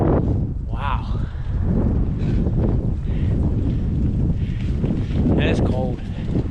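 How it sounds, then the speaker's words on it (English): Strong winter storm wind buffets the microphone during a bike-packing ride near the shore, a loud continuous roar with gusty swells, while someone talks over it. "this wind is ripping"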